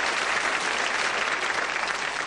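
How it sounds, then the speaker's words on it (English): A 1977 television game show studio audience breaks into dense, steady applause after a joke, with the sustained clapping wash close and filling the room. "We've never had applause on a joke before."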